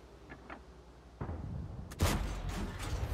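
A tank gun fires in World of Tanks, a heavy booming blast that swells suddenly, then a second loud crack and rumbling tail follow about a second later, with no speech.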